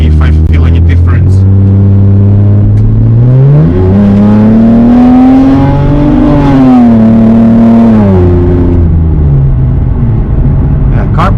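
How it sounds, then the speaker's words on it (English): A BMW with a stage 1 plus MHD tune, stock turbos and Precision Raceworks ignition coils accelerates hard, its engine note rising steadily in pitch and then easing off, loud and continuous from inside the car, with a voice briefly audible. "Yeah, car pulls pretty good."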